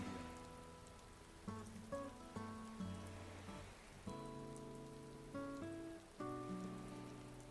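Steady rain patters on surfaces at a moderate distance, a dense, even hiss with scattered drops and no voices over it.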